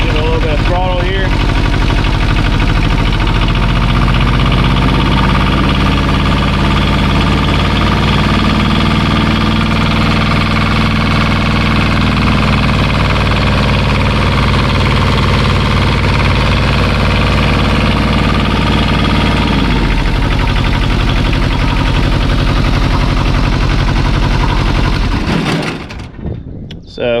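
Diesel engine of a Kubota T1600 lawn tractor runs steadily up close with a loud low rumble and droning harmonics, the throttle rising slightly before the engine cuts off near the end.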